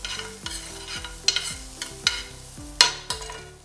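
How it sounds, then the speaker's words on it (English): Sweet onions sautéing in rendered bacon fat for bacon jam, stirred with repeated scraping strokes over a soft, steady sizzle, close and fairly quiet with sharper clinks at a few points. "Take the rendered fat from the bacon and let's go ahead and add our sweet onions to it."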